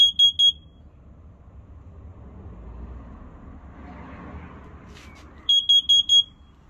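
A Nest Protect smoke and carbon monoxide alarm running its self-test gives a quick burst of loud, piercing beeps, then a quiet stretch of low room hum, then another rapid series of shrill beeps, close by.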